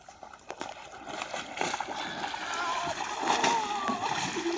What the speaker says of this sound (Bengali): এই আমাদের দুজন বন্ধু নৌকা নামাচ্ছে ওপর থেকে